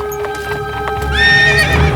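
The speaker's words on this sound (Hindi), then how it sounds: "औरोरी ने रॉनी को घोड़े पर जाते हुए देखा" A ridden horse clip-clops in uneven hoofbeats, followed by a loud, close neigh that rises and falls across the second half.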